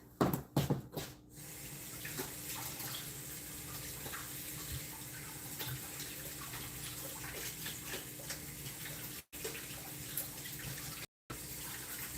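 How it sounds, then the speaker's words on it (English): Hands washed under a running kitchen tap, a steady close gush of water lasting the whole stretch with brief splashes at the start and two short cutoffs near the end. "Let me wash my hands."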